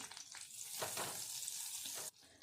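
Amul butter heats and sizzles in a pan with stirring, a close, dense frying hiss that swells, holds steady, then cuts off abruptly near the end; no speech.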